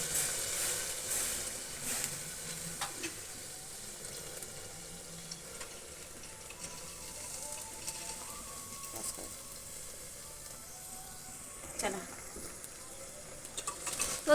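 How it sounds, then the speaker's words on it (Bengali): Soaked dal goes into fried, cooked-down masala in a pan and gets stirred, giving a faint sizzle broken by scattered spoon clinks and wet scraping. "তো দেখো আমার মশলাটা কষানো হয়ে গেছে, তোমরা দেখতে পাচ্ছ। এখন এই যে ভিজিয়ে রাখা তরকার ডালটা আমি দিয়ে দিচ্ছি।"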